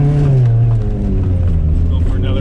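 A Ford Fusion with front-wheel drive is revved hard for a burnout, a loud, close, sustained engine roar with a slowly falling pitch, along with people talking.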